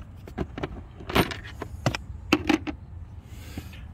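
Storage compartment on an X-Pro Tahiti 150 scooter being opened, with a series of short plastic clicks, rattles and knocks, one louder clunk in the middle, close up and with no talking.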